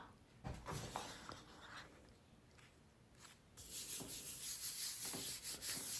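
Paper rubbed by hand onto a gelli printing plate, a soft dry scuffing that comes in repeated close strokes, brief and quiet at first and then steadier and brighter toward the end, with no talking.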